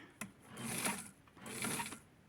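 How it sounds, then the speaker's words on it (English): A sewing machine stitches the back of a custom Gold Rush Barbie doll dress, running in two steady whirring bursts separated by a short pause, close by with no talk. "And I'm going to sew the back."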